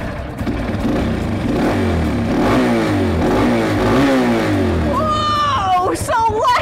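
A motorcycle engine revs hard as its throttle is twisted, a loud, steady roar that swells and churns, with an excited voice breaking in near the end.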